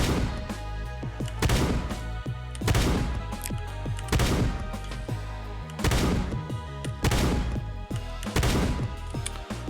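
Slow, heavy shotgun blasts in the video game Shortventure 3, loud booming shots roughly every second or so in a steady rhythm over a looping game soundtrack.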